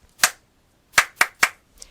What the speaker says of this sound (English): At 12 o'clock, you'll hear me clap like this.